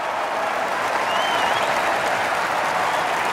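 A large golf tournament gallery at the Waste Management Phoenix Open applauds a shot, steady dense clapping from a big crowd sustained at even loudness throughout.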